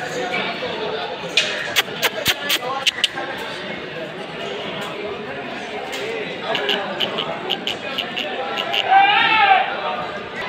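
A four-toothed goat bleats a few times at a busy livestock market, its calls partly buried under steady crowd chatter and nearby talking.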